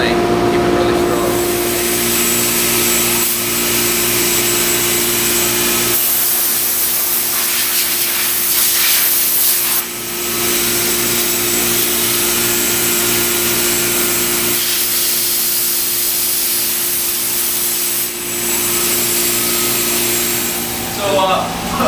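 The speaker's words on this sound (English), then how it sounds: "This is the airbrush room." An airbrush sprays paint onto surfboards in a surfboard shop, a loud steady hiss that pauses briefly twice before resuming, with voices in the room.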